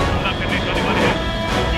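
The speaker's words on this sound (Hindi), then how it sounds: "वो आ गए सर, लड़ाकू विमान।" Fighter jets fly in during a Hindi-dubbed action movie scene, a steady broadband roar filling the whole moment, loud and continuous, with dialogue and score woven underneath.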